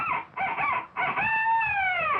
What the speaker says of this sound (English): the rooster crowing at the end of the short